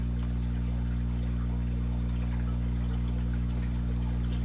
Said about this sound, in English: Now that we brought it down from the tank, it's still dripping a little fast